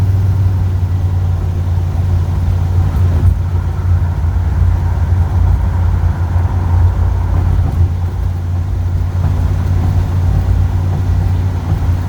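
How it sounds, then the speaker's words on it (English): 1948 Chevy cab-over crew cab truck on a custom square-tube chassis, its engine droning steadily and loud from inside as it drives, a low continuous hum with no clear gear change. "Truck accelerates well, shifts well."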